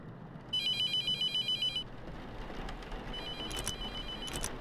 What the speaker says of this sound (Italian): E sta chiamando al telefono.